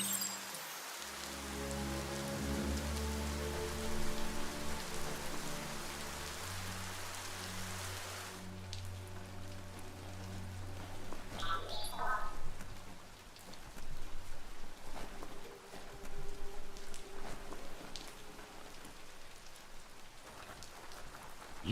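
Steady rain falls in the video game Biomutant, a soft hiss that stays present throughout, under low droning game music and ambience that shift partway through.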